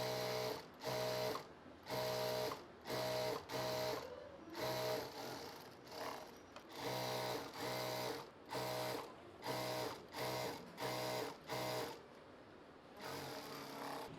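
A sewing machine stitches fabric panels together for an umbrella palazzo, running in a quick series of short, even bursts of whirring needle clatter with brief pauses between them, close and clear with no talk.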